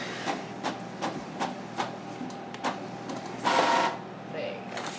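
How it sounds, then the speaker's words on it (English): A printer in an auto repair shop runs in a series of short, separate mechanical bursts, with a longer whirring pass near the end, close by and fairly quiet. "Something's printing."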